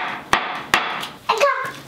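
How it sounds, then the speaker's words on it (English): Three sharp hammer bangs on wood at a steady pace, close by, followed by a short burst of a voice. "You wanna try banging on a piece of wood?"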